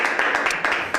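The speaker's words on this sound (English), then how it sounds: "give them a round of applause" Audience applause at a football preview show, a dense, steady wash of claps with a few sharper bursts, loud and close over about a second.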